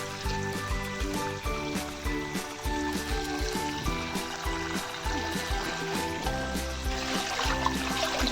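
Water pours steadily into a small toy swimming pool filled with leafy greens, a continuous trickling splash that runs unbroken and fairly close throughout.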